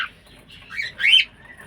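Cockatiels kept as a newly bought pair in a cage give two short, faint chirps, the second slightly louder, against a quiet background.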